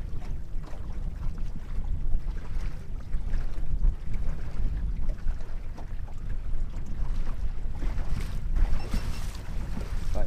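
Strong wind buffets a fishing boat out on open water, giving a steady, loud rumbling roar with gusty bursts and no talk.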